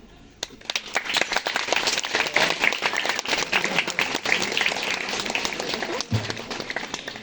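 A crowd applauds steadily, many hands clapping in a dense continuous patter that carries on for several seconds.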